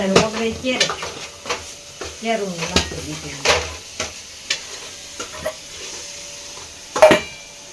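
Spices crackle in hot oil for a Gujarati tempering (vaghar) while cooking methi pak. Stirring and utensil clatter come in a quick, irregular rhythm of sharp clinks close by, with a soft sizzle and brief speech-like tones.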